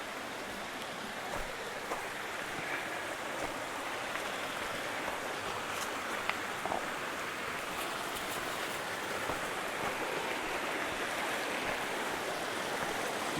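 Steady broadband rush of a mountain stream flowing over rocks in the Dolly Sods wilderness of West Virginia, continuous and close, with no voices over the constant wash.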